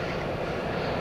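An American Airlines airliner on approach to DFW Airport at night gives a steady jet engine roar, constant and moderately near, with no talk over it.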